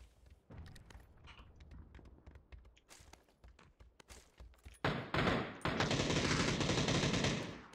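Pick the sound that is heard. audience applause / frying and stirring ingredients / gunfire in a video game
gunfire in a video game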